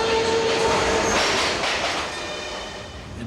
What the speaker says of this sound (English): the doors shut on us, packed in tight, lurching into each other as the train jerks forward.